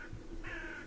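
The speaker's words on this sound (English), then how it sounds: "I wish that bird would shut up." A crow caws once outdoors, a faint harsh call rising out of quiet background noise at some distance.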